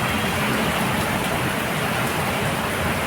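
Steady rain falls on a cold afternoon, a dense, even hiss of drops on surfaces, close and fairly loud, continuous for a few seconds with no talking.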